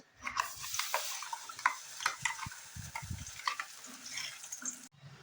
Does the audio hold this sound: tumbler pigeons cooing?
no